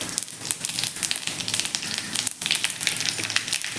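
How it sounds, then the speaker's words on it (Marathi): Mustard seeds and cumin sizzle and crackle in hot oil in a pan, a steady, loud, close frying hiss with fine popping, continuous throughout. "तेल आपलं थोडंसं गरम झालं की त्यामध्ये आपण मोहरी घालूयात, थोडेसे जिरे घालायचे आहेत"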